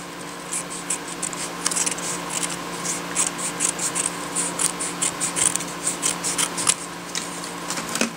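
Scissors snip through a sheet of paper to trim away the excess, giving a steady run of close, crisp cutting strokes in an irregular rhythm, heard alone with no talking.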